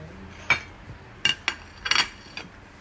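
Plates and dishes clink together in a kitchen while food is being served. Several short, bright clatters come close and loud: one at first, then two in quick succession, then a small cluster of rattling knocks.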